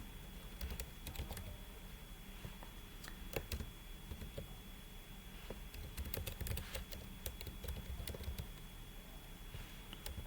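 Rapid, quiet keystrokes on a computer keyboard while code is typed, clustered in irregular bursts of clicks against a faint steady hum.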